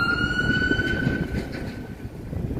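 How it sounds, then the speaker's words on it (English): A wailing ambulance siren sounds at a distance in downtown Toronto, its tone gliding steadily over a rumbling background of traffic. "I can hear sirens"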